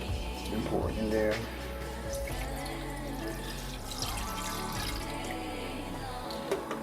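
Liquid pours into a pan while nachos are being cooked, a steady wet splashing and trickling close by under kitchen clatter and a speaking voice.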